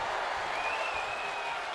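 Wrestling arena crowd at a championship event cheering and applauding steadily, a dense, continuous roar of claps and voices with no break.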